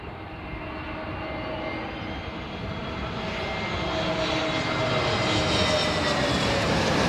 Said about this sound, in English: Air New Zealand being hit hard there with their no doubt 320 Neo fleet and the Rolls-Royce powered